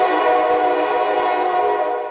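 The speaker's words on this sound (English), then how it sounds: "And the train lays on the horn." A train's horn blares loud and steady for about two seconds with strong layered tones, sounding close and alone with no talk over it.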